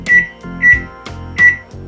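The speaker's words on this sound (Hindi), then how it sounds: "अब माइक्रोवेव ऑप्शन पर क्लिक करेंगे।" A microwave oven's control panel gives three short, bright electronic beeps as its buttons are pressed in a home kitchen. Soft thumps of the presses fall between the beeps, loud and close.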